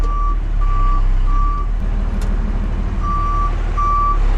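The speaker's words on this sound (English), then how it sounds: "Backup beeper. Backup beeper?" A backup beeper on a 1975 Dodge D600 truck gives about five clear, evenly spaced electronic beeps with a short gap partway through, sounding loud and close over a low, continuous engine rumble.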